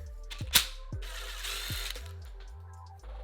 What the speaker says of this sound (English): You need to remove 3 bolts, then you will replace the bolts with the longer ones in the kit.